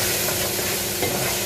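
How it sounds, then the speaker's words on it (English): Lamb stirred into a sizzling pilau mixture in a hot pan, a close, loud, steady frying hiss with scraping of the spoon throughout. "So we're adding to the mixture and stir well."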